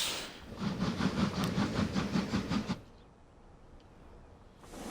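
A train pulls out of a station in the game Transport Fever 2 with a rapid, rhythmic clatter of wheels for a couple of seconds, then fades to a quiet hush.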